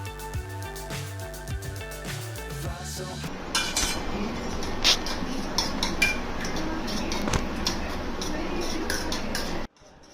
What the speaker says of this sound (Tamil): ஆம்லெட் செய்யறதுக்காக 2 முட்டையை எடுத்து நல்லா உடைச்சி நல்லா கிண்ணத்துல போட்டு பீட் பண்ண போறோம்